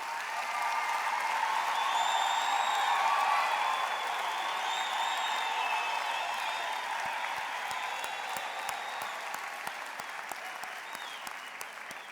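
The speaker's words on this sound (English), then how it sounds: "let us give our graduates a big hand for their hard work and perseverance" Sustained audience applause for graduates at a Faculty of Education graduation ceremony, a dense, steady wash of clapping from a large crowd with a faint murmur of voices, tapering slightly toward the end.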